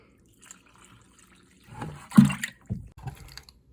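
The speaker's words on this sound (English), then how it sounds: "My water, a little bit of bonding adhesive, and I'm just going to add it here to my mud pan" Water with a little bonding adhesive poured into a plaster mud pan for a repair, a short faint splash and trickle rising midway after near silence, with a few soft drips after.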